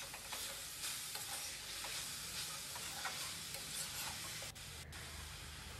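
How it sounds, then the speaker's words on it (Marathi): Grated carrots cooking in ghee for carrot halwa, stirred steadily in a pan with a continuous close sizzle and scraping strokes throughout, no voices. "तुपामध्ये हे थोडंसं परतून घेतल्यानंतर ह्याबरोबर मिक्स करून हे अजून ह्याला आपण शिजवणार आहे"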